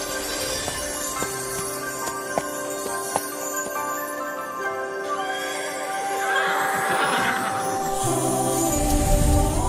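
A horse whinnies over a sustained musical background, with a few sharp hoof-like knocks and a swelling orchestral passage toward the end.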